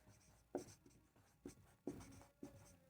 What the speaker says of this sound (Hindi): उसके बाद लिखेंगे